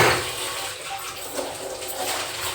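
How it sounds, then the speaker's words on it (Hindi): Tap water runs steadily into a sink while a jar is being washed in a home kitchen, a continuous splashing hiss close by with small fluctuations and no voices. "जार को धो देते हैं"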